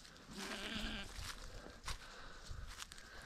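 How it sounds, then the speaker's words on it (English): Sheep bleating in a field, a sustained near bleat followed by rustling movement and scattered footsteps, fairly quiet outdoors. "the sheep will be running the opposite direction"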